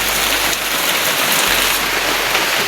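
Heavy rain pours down on a farm hut beside a field being cleared for chili and string bean planting, a dense, loud, unbroken roar of drops drumming close by.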